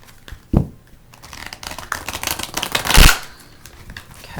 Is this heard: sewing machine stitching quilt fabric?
no